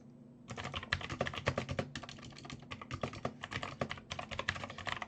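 Fast, steady typing on a computer keyboard, close and clear, with dense clattering keystrokes broken by a few brief pauses.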